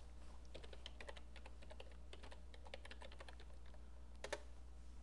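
Computer keyboard being typed on, with quiet, irregular key taps in short bursts over a steady low hum, ending in a slightly louder keystroke, and no talking.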